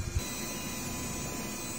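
A DTF printer runs a normal print head clean cycle, giving off a steady, low mechanical whir and hiss that stays quiet and even throughout, with no voices.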